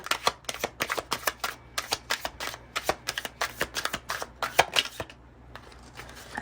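Tarot cards drawn and shuffled from a split deck, a steady run of crisp, close papery flicks and snaps for about five seconds, then a quieter tail of soft card handling.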